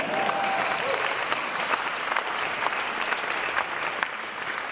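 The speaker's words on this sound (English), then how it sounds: "Can I have a round of applause?" A crowd applauding steadily, a dense wash of clapping that holds at an even level throughout without pause.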